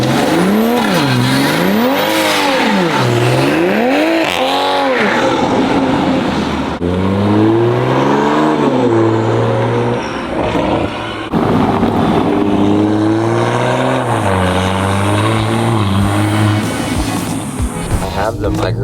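Toyota Supra fitted with an Armaspeed intake, revved to around 3,000-4,000 RPM and released repeatedly, engine pitch rising and falling in waves with whooshing intake and turbo noises, loud and close, heard from inside the cabin.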